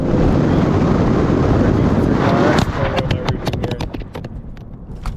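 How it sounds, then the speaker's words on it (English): A GoPro camera tumbles off a moving 996 Porsche 911: a steady roar of wind and road noise drops abruptly partway through, then a string of sharp clattering knocks and taps follows. "I think my GoPro just fell off."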